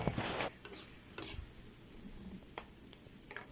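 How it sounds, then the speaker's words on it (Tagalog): Onions fry in plenty of butter in a pan, being stirred: a steady close sizzle with soft scraping strokes and a few clicks of the utensil, loudest at the start, with no talk. "Lagyan natin ng onions. Then, mix na natin."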